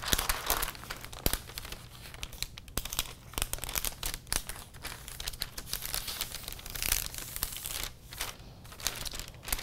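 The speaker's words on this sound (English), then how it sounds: "So folding from the waist down to the hem." Paper skirt pattern folded from waist to hem, close crinkling and rustling of the sheet in irregular bursts with sharp crackles, no voices.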